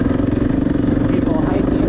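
An off-road motorcycle engine runs steadily at close range on a dirt trail at an OHV riding area, with a rough, continuous hum and clatter. The bike's clutch may be faulty.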